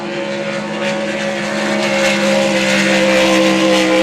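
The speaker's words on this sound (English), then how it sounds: "That boat sounds strong." A 6-litre racing powerboat engine roars steadily and loudly throughout a race, a sustained droning hum with no pauses.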